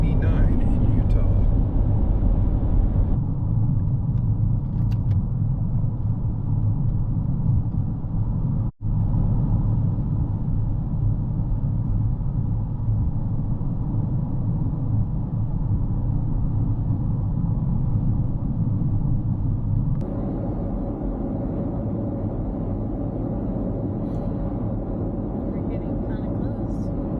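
Steady engine and road rumble inside a car driving up Scenic Route 89 in Utah, a constant low drone throughout with a brief dip partway, while a person talks over it.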